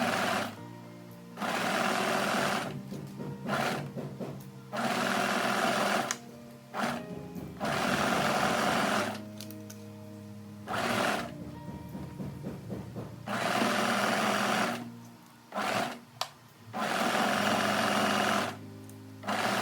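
Sewing machine stitching two pinned layers of dress fabric with a 1 cm seam allowance, running in loud close bursts of rapid whirring with short pauses between.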